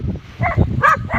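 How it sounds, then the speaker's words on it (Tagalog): Dogs bark in short, close bursts, about three quick barks with brief gaps between them. "At may mga aso po."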